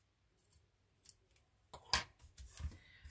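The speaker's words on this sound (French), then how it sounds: "Et je coupe." Scissors snip through a material in a quiet room, a few soft clicks leading to one sharp close cut and a couple of fainter snips after.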